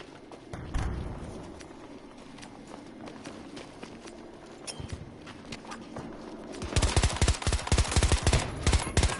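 Gunfire in the shooter game Battlefield 2042, scattered shots and movement sounds early, then a sustained burst of rapid automatic fire toward the end, fairly close and loud over game ambience.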